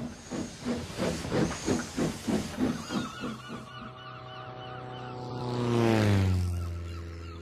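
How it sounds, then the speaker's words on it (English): A steam engine chuffs in a quick regular rhythm of hissing puffs, then slows and gives way to a long, rising steam whistle. "he puffed away in a cloud of steam"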